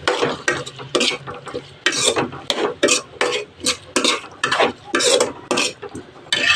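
A spoon scrapes and stirs boiled peas and potatoes with turmeric in a pan, making quick rhythmic clatters and scrapes over a faint sizzle. The sound is close and continuous, with no talking.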